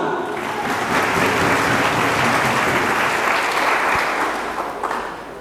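A church congregation in Indonesia applauds for God during a worship gathering, dense loud clapping that holds steady for several seconds before tapering off toward the end.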